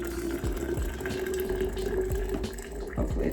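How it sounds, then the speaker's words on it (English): Boiling water pours steadily into a glass mason jar, a continuous gushing, splashing fill with a low hum underneath and occasional soft knocks, close and even throughout. "Pour this in the mason jar."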